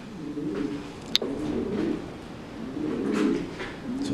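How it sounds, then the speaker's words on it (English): A pigeon coos inside an abandoned beach house in Southport, soft low rolling calls repeating in short phrases, fairly close, with one sharp brief knock partway through. "Is that a pigeon?"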